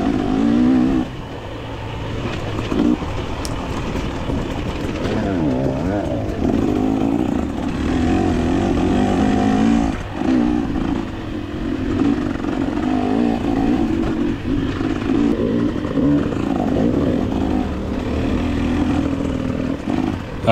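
Dirt bike motorcycles in a hare scramble race roar continuously, with engines revving and droning loud and close for the full stretch alongside clattering over the trail.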